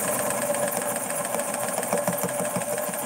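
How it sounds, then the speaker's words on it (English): A Morse 4400 rotary sewing machine, knee-operated, stitches a petticoat with a continuous close whirring motor hum and a fast, steady mechanical chatter. "this is a rotary machine. It sews when I push my knee up against"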